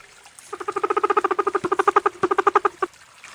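Cartoon rabbits in an animated environmental film let out a rapid run of about two dozen evenly spaced squeaky chirps, loud and close, with no talking.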